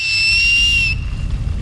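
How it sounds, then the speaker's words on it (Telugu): A shrill, steady whistle blown as a signal, loud and close, holding one long tone for about a second before cutting off into low background rumble. "ఎవరయ్యా ఈల వేసినది?"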